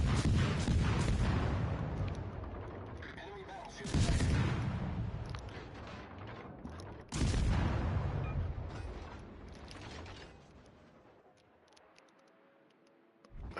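Heavy naval gunfire in a warship battle game, deep booming salvos at two points followed by long decaying rumbles, loud then fading toward quiet.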